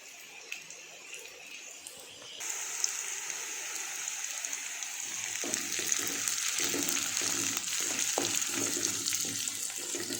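Dried red chilies frying in hot oil in a pan for roasted eggplant thokku, a steady hiss and crackle that jumps louder partway through and keeps sizzling, with no talk.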